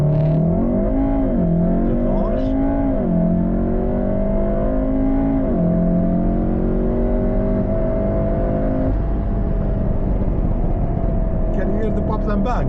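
A tuned stage 2 VW Golf R mk7 accelerates hard from a standstill, its engine climbing through rising gear pulls with loud, steady exhaust roar, short dips at each shift and faint crackles near the end.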